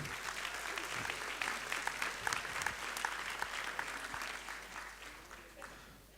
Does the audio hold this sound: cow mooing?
no